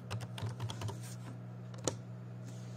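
A command typed on a computer keyboard, a short burst of close, quiet key clicks early on, then a pause and one firmer tap like the enter key, over a low steady hum.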